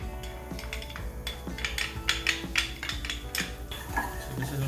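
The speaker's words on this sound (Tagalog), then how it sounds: "gisa muna natin yung ginger. Then, lagayin natin ang ating bawang" Ginger and garlic stirred in a little oil in a pan for Asian-style chicken wings, with a soft steady sizzle under repeated scraping and clinking of a utensil against the pan, close by and with no voices.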